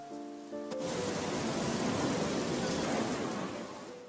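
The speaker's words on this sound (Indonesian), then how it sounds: "hujan bercampur angin turun dan memporak-porandakan tenda milik mereka" Steady, dense hiss of heavy rain driven by wind on a stranded island, loud and continuous, with a short tonal musical phrase fading out at the start.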